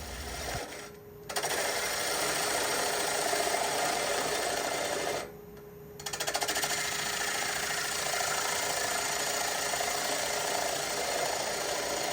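Steady grinding, whirring drone of a wood lathe cutting away a tenon on a winged bowl held by the tailstock, briefly dipping twice as the tool lifts off, then resuming at the same level.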